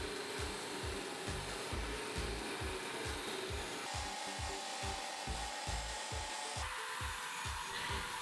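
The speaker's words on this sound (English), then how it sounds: "I mark all the pieces and shape them with a sanding disc." A sanding disc shapes small wooden pieces for a foldable handle, giving a loud, continuous abrasive rasp with rhythmic pulses as each piece is pressed and worked against it.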